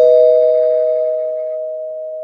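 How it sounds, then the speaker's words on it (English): A single bell struck once for a spoiler alert, ringing as one clear sustained tone that slowly decays over about two seconds, alone with no talk. "I'm going to ring the bell just in case people out there haven't been keeping up"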